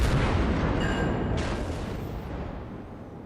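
Cruiser gunfire from the German cruiser Konigsberg in World of Warships: a dense, rumbling booming wash that fades steadily, with a sharper burst near the middle, heard alone without talk.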